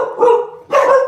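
Two loud bursts of dog barking at close range, each a rough clustered woof about a third of a second long, separated by a short lull; no talk over them.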